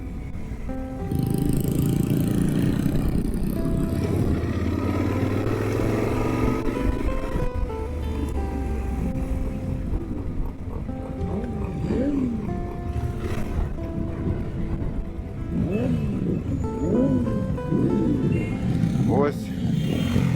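Several motorcycles ride through a city centre in Nova Odesa, engines droning and revving up and down in overlapping tones close by, with a voice talking over the steady motor noise.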